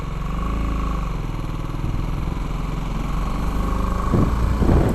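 A BMW G310 GS single-cylinder motorcycle pulls away from a standstill in third gear: a loud, close, steady engine drone with a strained, rougher surge near the end as it takes up drive.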